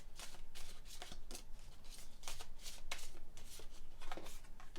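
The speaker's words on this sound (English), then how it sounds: "So let me just shuffle your cards" Tarot cards are shuffled in quick riffling bursts, a series of crisp papery flutters repeating every half second or so, close up and fairly quiet with no talking.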